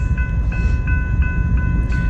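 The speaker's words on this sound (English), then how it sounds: "We got this westbound train coming in sight." A westbound train approaches at a railroad meet in Chewalla, Tennessee, with a steady low rumble and faint periodic clicking of wheels over the rails throughout.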